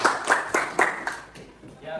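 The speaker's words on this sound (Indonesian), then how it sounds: "tepuk tangan untuk Tiara" A small classroom group claps for a student named Tiara, giving about six distinct, fairly close hand claps in a loose rhythm that fade out, with a voice coming in at the end.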